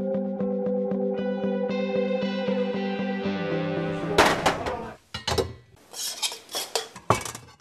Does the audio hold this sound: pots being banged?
yes